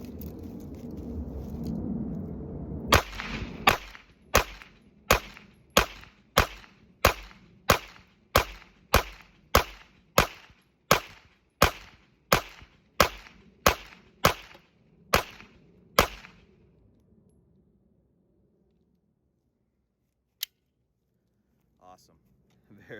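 Rapid string of about twenty sharp gunshots from a ported-barrel Glock-style pistol loaded with 124 grain ammunition, evenly spaced and loud, followed by a few isolated distant clicks after the firing stops.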